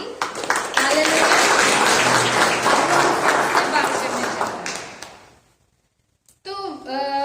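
A church congregation claps and cheers for God during a Hindi-language worship service, a dense sustained burst of applause that fades out after about five seconds, then a voice begins speaking.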